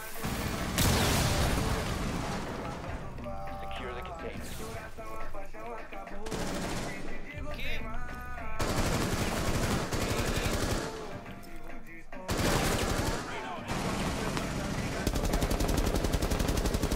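Rapid automatic gunfire from a video game, dense bursts of machine-gun fire and shots that continue almost without break over loud game sound and music, with a few short lulls.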